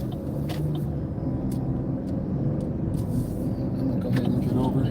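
A car pulls away from a red-light turn and drives on through busy city traffic during a beginner driving lesson, a steady low engine and road rumble with passing vehicles all around, continuous and fairly close.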